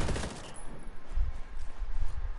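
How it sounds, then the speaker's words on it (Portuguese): Gunfire in the video game Ghost Recon Wildlands during PvP play: a brief burst of rapid shots at the start, then lower distant thumps and rumble with no speech. "Estão atirando."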